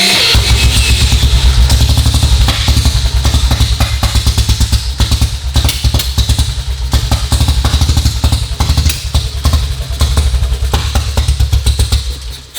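A 1952 BSA M21 motorcycle is cranked over on a roller starter, its single-cylinder engine firing in a loud, steady rapid chugging with mechanical clatter throughout, running continuously and close up.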